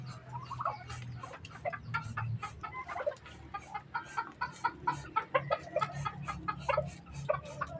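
Hens clucking steadily nearby, a run of short rhythmic clucks building in pace, with a low background hum and no talk.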